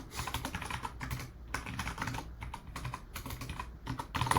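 Rapid keyboard typing goes on while code is entered, a dense patter of close, quiet key clicks with short pauses. No one speaks.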